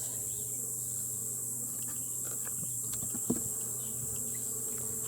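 Honeybees at an open hive during an inspection, giving a steady, soft insect drone that stays even throughout, with a faint knock partway through.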